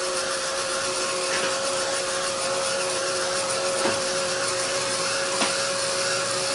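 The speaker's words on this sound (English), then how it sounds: "let's hit this real quick with a dryer" Steady, continuous hair dryer roar with a constant whine, blowing close and loud without pause for several seconds.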